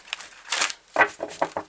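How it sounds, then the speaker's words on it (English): Short bursts of papery riffling and soft card slaps, a few quick shuffles close by with brief pauses between them. "It's very hard to shuffle. I'm going to have to do it sideways."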